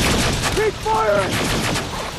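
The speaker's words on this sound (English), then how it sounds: "Watch the heavy fire! Keep firing!" Heavy, sustained gunfire in the video game Terminator: Resistance, a dense, continuous barrage over about two seconds with tonal game sounds or voices layered on top.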